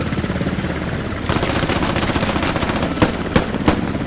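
Machine-gun fire in the military shooter Squad: a steady, dense rattle of automatic bursts with several sharper gunshot cracks standing out near the end, set against rumbling battlefield noise.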